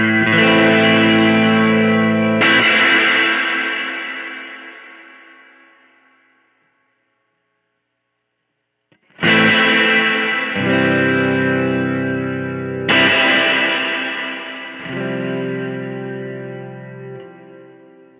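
A guitar played through the plate reverb mode of a Keeley Verb O' Trem pedal, with strummed chords ringing out and decaying into a long tail, a pause, then more chords with lingering shimmer.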